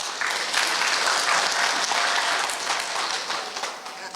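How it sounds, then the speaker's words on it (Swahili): A crowd at a women's development meeting in Machakos applauds Governor Kibwana, giving dense sustained clapping for about four seconds that fades slightly at the end. "Makofi kubwa sana kwa Gavana Kibwana."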